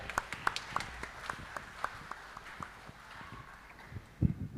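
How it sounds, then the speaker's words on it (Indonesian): Crowd of people clapping for a group of young families at an indoor Christmas church gathering, scattered, fairly quiet claps with a few sharper hits, fading out near the end. "Tepuk tangan untuk keluarga muda"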